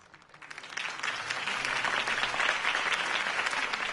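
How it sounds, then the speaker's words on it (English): Sustained crowd applause in a Batman Telltale Series game scene, rising quickly after a campaign speech into steady, dense clapping from a large audience, with no voices over it. "If only Mr. Wayne, my campaign's largest backer, could have heard that applause"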